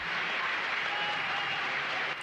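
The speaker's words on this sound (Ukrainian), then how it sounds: "Леоніда Кравчука вітають оплесками депутати" Deputies applauding Leonid Kravchuk in the parliament session hall, a steady wash of clapping from a large crowd, even and sustained throughout.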